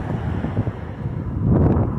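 Gusty wind buffets the microphone in a continuous low rumble on an outdoor walk in a cold, historic small town in Maryland, swelling louder near the end.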